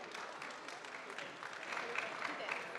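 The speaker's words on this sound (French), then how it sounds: "Vous pouvez l'applaudir s'il vous plaît." Audience applause at a startup pitch session at the Paris Air Lab during the 2025 Paris Air Show, a steady wash of many hands clapping at moderate volume, with some voices mixed in.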